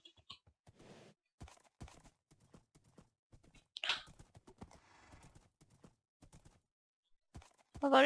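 Horse hooves clip-clopping in Minecraft while riding up a mountain, a run of light, irregular clops with a few louder thuds, near and fairly quiet, with no talk over them.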